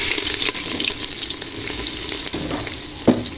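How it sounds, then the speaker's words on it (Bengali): Chopped onion frying in hot oil for khichuri, a loud continuous sizzle up close with scattered crackles and a sharp knock near the end, no voices. "তেল গরম হয়ে গেছে, এখন পেঁয়াজ কুচি দিয়ে দিব।"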